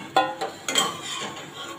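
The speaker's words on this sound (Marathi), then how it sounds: "तेल निथळून मी आता एका भांड्यामध्ये काढून घेते" Fried potato chips, drained of oil, tipped into a bowl: a few quick light clinks and crisp rustles close by over about two seconds, with no talking.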